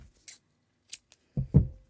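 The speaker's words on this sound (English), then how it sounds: "and cut our yarn" Scissors cut crochet yarn while a vintage Christmas boot is finished: a few faint metallic snips, then two louder, close cuts near the end, with no talking over them.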